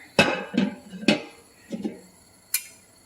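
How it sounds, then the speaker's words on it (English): A metal cooking pan is set onto a stove in a home kitchen, giving a few sharp clanks and knocks close by, separated by short pauses, with a brighter clink near the end. "So let's go ahead and bring our pan over here."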